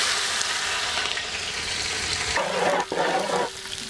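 Finely chopped ginger and garlic hit hot oil with raw spices in a frying pan for lemon pepper chicken, producing a steady, loud, close sizzle that surges briefly as the pieces go in, with no talking.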